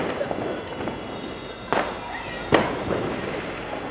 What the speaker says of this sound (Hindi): बच्चे पटाखे भी छुटा रहे हैं